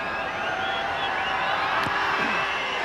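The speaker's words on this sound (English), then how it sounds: "Great crowd behind him. And they rise to Gareth Morton" A rugby league crowd at a Hull Kingston Rovers versus Leeds Rhinos match gives off a continuous loud roar with faint whistles and rising whoops as a kicker steps up.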